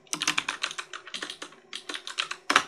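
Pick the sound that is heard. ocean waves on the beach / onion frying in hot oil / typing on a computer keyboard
typing on a computer keyboard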